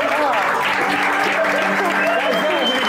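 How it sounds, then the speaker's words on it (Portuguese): Applause and crowd reaction on a podcast set, a steady wash of clapping that runs the whole clip, with voices talking and exclaiming loudly over it. "Aplauso."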